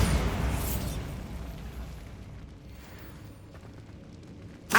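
A Bombarda blasting spell from Hogwarts Legacy detonates in a loud, broad explosive burst that rumbles and decays over several seconds, ending with a sharp crack.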